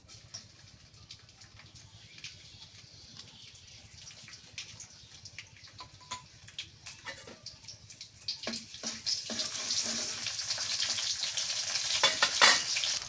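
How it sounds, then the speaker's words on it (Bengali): Chopped onions dropped into hot mustard oil in a home kitchen, a soft crackle building into a louder, brighter sizzle with occasional stirring scrapes, close by and without talk. "সর্ষের তেল খাই আমরা। পেঁয়াজ কুচি দিয়ে দিলাম"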